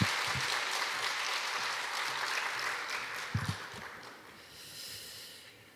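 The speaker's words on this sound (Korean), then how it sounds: "나오실 때에 환영의 박수로 뜨거운 박수로 맞으시면 감사하겠습니다" Welcoming applause from a church congregation at a mothers' prayer meeting, a broad steady wash of many hands clapping that fades toward the end, with a few low thumps near the start and middle.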